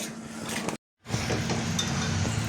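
A spoon stirs a patishapta pitha filling with powdered milk in a pan, giving a steady close scraping and soft sizzle, with a brief full silence partway through.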